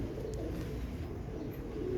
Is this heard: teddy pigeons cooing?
yes